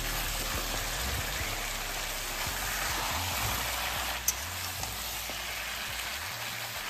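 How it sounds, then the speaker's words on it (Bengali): Chicken pieces and about 300 grams of halved tomatoes frying in a pan, a steady close sizzle with soft scraping stirs and occasional clinks of a utensil, no talking. "টমেটো দিয়ে চিকেনটা আমরা নাড়াচাড়া করতে থাকবো"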